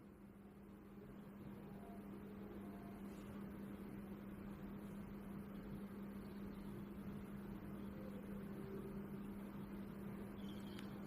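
A sewing machine runs steadily while stitching a blouse neckline, a low continuous hum with a fast, even mechanical whir, faint and unbroken for the whole stretch.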